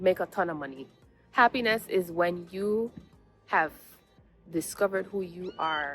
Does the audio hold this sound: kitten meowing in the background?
yes